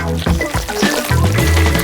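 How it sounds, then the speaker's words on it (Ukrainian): Blue jelly is poured into the centre of a cake, producing a short liquid pour with soft glugging and trickling, close and fairly loud, with no talk. "Далі наливаємо у центр блакитне желе."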